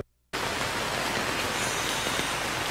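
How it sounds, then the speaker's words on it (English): Rain falling outdoors, a steady dense hiss that starts abruptly after a brief silence and continues evenly and loudly to the end, with no voices. "It's raining, Ben"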